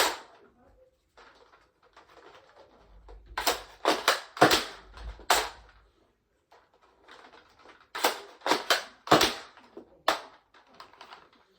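Zuru X-Shot Hawkeye dart blaster fired on a range with Mosting darts, sharp loud shots in two groups of four or five, with priming clicks and handling noise between them.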